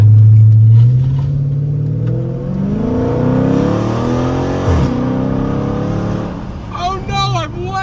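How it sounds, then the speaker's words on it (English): A Dodge Challenger SRT8 with a Borla ATAK exhaust and 2 3/4 inch pipes runs the full length, giving a deep, growly roar that revs up close, then sweeps past. A voice speaks over the engine. "That 2 3/4 inch pipe going all the way out makes this thing just so much deeper and just like growly when it comes out the end"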